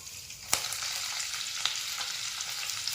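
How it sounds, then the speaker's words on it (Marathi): Garlic and green chillies drop into hot oil already holding dried red chillies, cinnamon and cloves, setting off a steady close sizzle with a sharp burst at the start and another spike midway. "त्यामध्ये घेतलेला लसूण आणि हिरवी मिरची टाकते"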